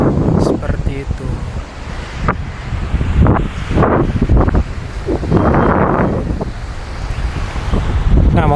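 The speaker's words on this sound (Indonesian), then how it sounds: "Jadi ya kita mau bilang ini pantai, sepanjang kota pun pantai gitu." Surf washes onto a beach along the Jayapura city shoreline in Papua, a steady rushing roar of waves with gusts of wind buffeting the microphone, continuous and fairly loud throughout.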